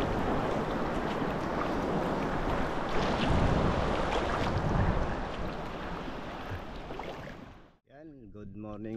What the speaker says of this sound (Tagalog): Malalaki pa rin konti yung alon.